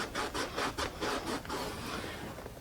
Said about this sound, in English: Here's our Sno-Seal. Pushing it into the seams.